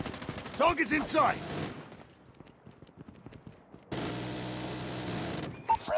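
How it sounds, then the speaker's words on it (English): Automatic sentry gun in Call of Duty Mobile's Attack of the Undead mode firing rapid bursts, loud and close, in two stretches separated by a quieter gap, with a game voice speaking over the opening shots. "Friendly sentry gun deployed. Sentry gun deployed."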